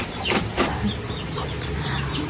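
Farmyard chickens cluck in a few short bursts at close range, with some quieter background noise between the calls.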